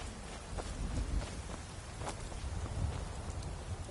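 Rain falls steadily in the video game Skyrim VR, a soft continuous hiss with low rumbling underneath and a few faint pattering accents.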